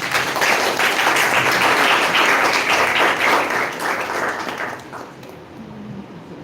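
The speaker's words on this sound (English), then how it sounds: "Can we clap?" Audience applause at an International Women's Day felicitation ceremony for women achievers, a sustained burst of many hands clapping that fades toward the end as a voice begins.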